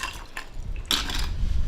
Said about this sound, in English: So then I'm just gonna give it a nice little stir